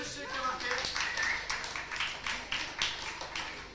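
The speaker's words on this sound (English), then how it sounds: "Big round of applause for Sue." Audience applause at a live 1995 magic show at the RCH, a continuous crackle of clapping from the crowd with a voice talking over it near the start.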